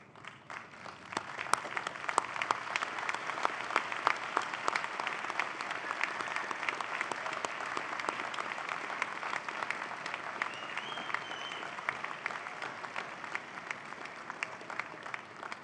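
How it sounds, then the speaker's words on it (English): Sustained applause from a large graduation convocation audience, a dense steady wash of many hands clapping at moderate level, lasting throughout without talk. "give them a warm round of applause for supporting your journey"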